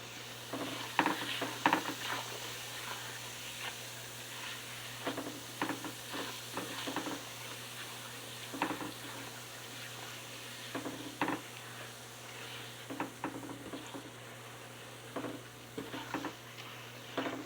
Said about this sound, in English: adding your spoonfuls of flour and breaking it up like that until it thickens up